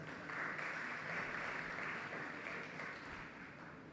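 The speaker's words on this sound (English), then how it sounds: "Ladies and gentlemen, a round of applause for our partners." Audience applause for event partners at the FE India's Best Bank Awards ceremony, a steady, moderately quiet wash of clapping from a seated crowd that holds evenly for about four seconds.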